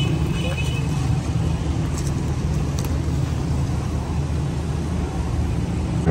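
A modified pickup truck rumbles steadily nearby in a low, continuous engine drone with road noise and no pauses.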